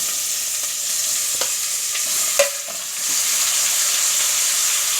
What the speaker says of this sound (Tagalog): ilagay ko na po yung ating chicken wings